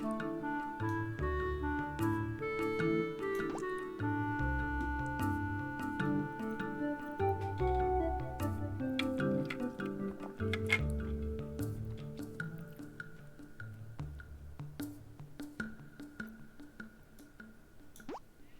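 Crops being watered in the farming video game Everafter Falls: a steady run of soft splashy drips and squishy plops repeating quickly throughout, over a warm looping music bed, with no talk.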